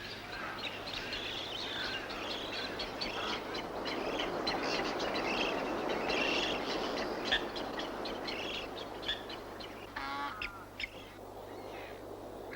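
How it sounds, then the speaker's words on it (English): Many birds call and chirp in trees at Western Port Bay, over a dense, steady chorus of natural background noise, with a few clearer calls standing out. "There's a heck of a lot of birds in the trees there."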